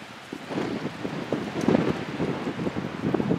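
Strong wind buffets a hilltop, a steady broadband roar with gusty swells and microphone rumble that build toward the middle and stay loud and constant, with no voices.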